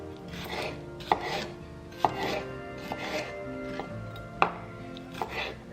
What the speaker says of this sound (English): And I don't need any hate for the way I cut vegetables.